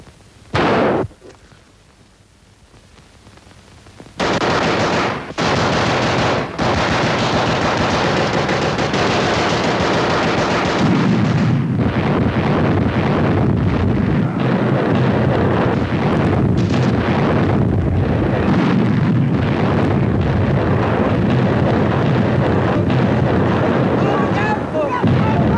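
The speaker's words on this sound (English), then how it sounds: "That was a cannon." Cannon blasts and rapid machine-gun fire from a 1941 British World War II comedy film: a couple of sharp early bangs, then sustained loud bursts of gunfire with booms that carry on for over twenty seconds.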